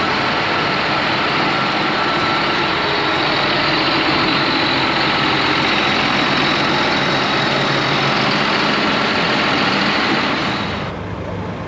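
A John Deere 6920S tractor engine runs loud and close in a service workshop, a dense, steady roar with no letup that drops away abruptly just before the end.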